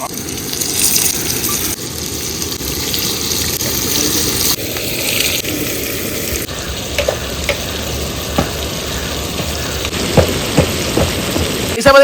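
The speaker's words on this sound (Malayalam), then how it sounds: "നമ്മുടെ എണ്ണയൊക്കെ ചൂടായി വന്നിട്ടുണ്ട് നമ്മുടെ മീൻ അങ്ങോട്ട് നമ്മൾ ഇറക്കി കൊടുക്കാനായിട്ട് പോവാണല്ലേ" Snakehead fish fries in hot sesame oil, a loud steady sizzle up close with scattered sharp pops and crackles growing more frequent toward the end.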